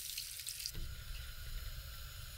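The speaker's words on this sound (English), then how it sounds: "Add the 2 cups of water to cook and tenderize the meat." Water poured from a tap or cup into a pan of caramelized ribs during cooking, a steady close splashing and trickling stream that runs alone for a couple of seconds.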